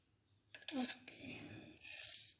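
Utensils clink and scrape in a pot while turmeric, ginger and kencur are stirred, two short bursts of close metallic rattling separated by a quieter pause, with faint voice-like sounds in the background.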